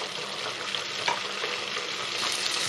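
Bánh tiêu dough pieces fry in hot oil with a continuous, close crackling sizzle and small pops as they are turned, with no talking.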